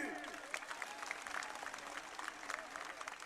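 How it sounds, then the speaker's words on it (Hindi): Crowd at an election public meeting clapping on cue, a steady wash of distant applause from many hands under a raised voice addressing them. "बजाओ ताली।"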